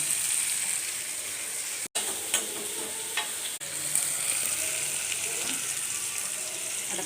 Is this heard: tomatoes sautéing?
yes